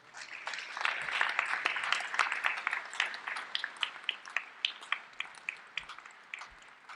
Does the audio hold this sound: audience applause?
yes